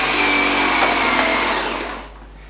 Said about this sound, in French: Vous baissez la manivelle, vous l'enclenchez et puis vous aspirez.